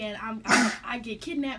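One sharp sneeze bursts out close by, with a person speaking just before and after it.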